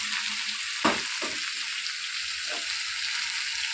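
Spices and turmeric fry in hot oil in a pan with a continuous soft sizzle, broken by a few short clatters of stirring.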